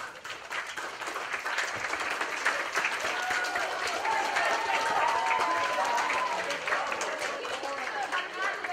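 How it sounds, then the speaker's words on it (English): Church audience giving a polite, awkward round of applause during a sermon, a fairly quiet, even patter of clapping across the whole stretch while someone's voice carries faintly over it. "Thank you for that polite and awkward applause."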